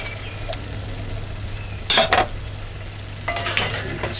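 A spoon stirs corn into stewed sardines in a pot, making two short bursts of scraping and clinking against the pot over a low, steady background hum, with no talking.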